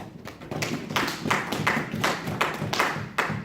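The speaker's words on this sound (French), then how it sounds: "On acclame pour la parole de Dieu." A church congregation claps in praise, a steady run of loud hand claps that repeats at an even rhythm, with a background murmur of acclaiming voices.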